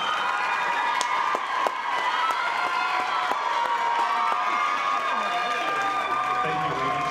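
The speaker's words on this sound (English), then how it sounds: "Let's have one more round of applause for our first group of contestants." Pageant audience applauds and cheers for the first group of contestants, a loud continuous wash of clapping and shouting voices, with a voice and music-like tones entering near the end.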